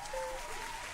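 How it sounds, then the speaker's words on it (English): Canned applause clap track played during a live tabletop roleplaying game session, a short burst of steady clapping with a faint tone running underneath. "I feel like we need a clap track."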